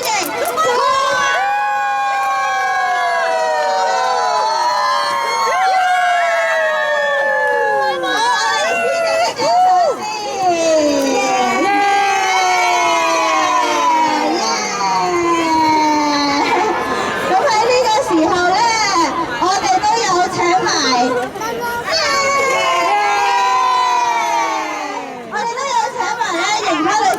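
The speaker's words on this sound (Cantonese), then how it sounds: "請大家俾一次大力嘅掌聲" A large crowd with many children cheers and shouts to welcome the mascot Kumamon at the ASICS Kumamon Run 2025 in Hong Kong. The excited voices rise and fall loudly and continuously for the whole stretch.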